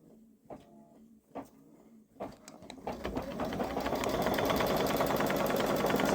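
A Babylock Solaris 3 embroidery machine starts up after a few soft clicks and knocks, then settles into a loud, steady, rapid stitching hum that builds and continues through the end.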